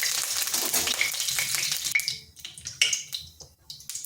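Nigella seeds hit hot oil in a wok with a loud hissing burst that fades after two seconds into softer, scattered crackles and pops.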